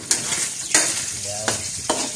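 Hot cooking oil crackles and sizzles in a pan, with sharp spattering bursts popping out about four times over a steady frying hiss.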